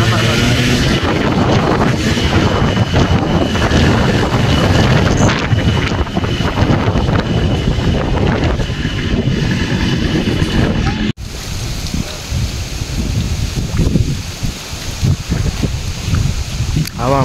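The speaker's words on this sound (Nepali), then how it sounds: "सो बाटोमा चाहिँ हावा हुन्डरी चलिरहेको छ" Strong wind on a dusty road buffeting the microphone in loud, continuous roaring gusts, with a brief cut partway through and wind carrying on afterward.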